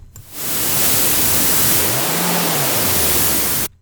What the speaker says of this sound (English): we're just going to turn on our AC hum